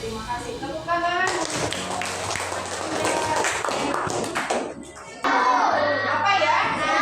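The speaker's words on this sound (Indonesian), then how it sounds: "Tepuk tangan." Hands clap in a classroom, a dense burst of applause from a group of children that runs across most of the clip, fairly loud, with voices talking around it.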